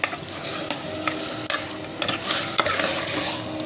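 A tomato stirred into frying green chilli mutton masala, a steady close sizzle with repeated scraping stirs of a spatula in the pan, no speech.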